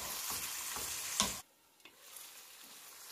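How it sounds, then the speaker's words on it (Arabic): Chicken liver sizzling and frying in a pan with a stirring scrape, loud bubbling crackle that cuts off abruptly partway, leaving a faint hiss and a few small ticks. "غنخليها تقلى شويه ونضيف عليها البصله"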